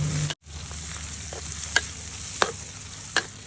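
Boiled eggs stir-fried in a pan, a steady close sizzle broken by a few sharp scrapes and clinks of the spatula against the pan.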